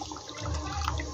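Water pours and splashes into a pan of cooked spice paste for a hilsa curry with pumpkin seeds, a short, steady, close gush with no talking.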